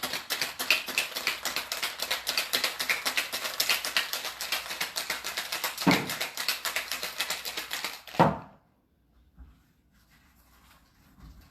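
Cocktail shaker holding a Negroni variation with sweet vermouth, shaken hard in a fast, even rattle for about eight seconds before stopping abruptly, followed by a few quiet knocks.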